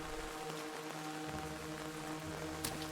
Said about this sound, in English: It's raining. We're walking through an alleyway.